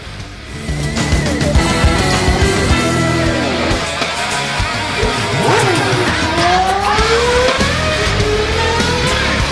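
Toy race cars speed around a racing track in a loud, continuous electric whine, with pitch rising and swooping as the cars accelerate and take corners, with clattering along the track.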